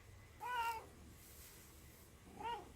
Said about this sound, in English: Hello, lab assistant cat.